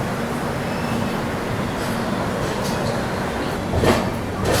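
Tamil Nadu Superfast Express running at speed, heard from inside a 2AC coach as a steady loud low rumble and rush with faint rhythmic clatter and a brief louder rattle near the end.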